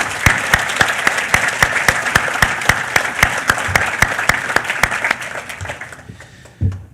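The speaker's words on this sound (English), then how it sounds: "go ahead and give yourselves a round of applause" A group of people at a virtual celebration claps steadily for several seconds, with sharp individual hand claps standing out, before the applause fades away into near silence.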